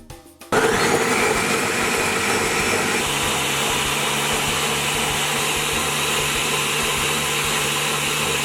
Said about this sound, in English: And then we're gonna blend it. We're gonna start off at low speed, and then we're gonna build up to high.